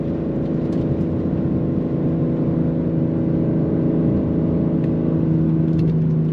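A 2026 Aston Martin Vanquish engine drones steadily from inside the cabin while paddle shifters are used in manual mode, a continuous loud low hum with mild rising and falling pitch and no talk over it.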